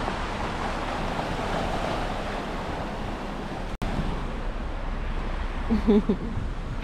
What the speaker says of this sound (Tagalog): Tapos yung alon, grabe.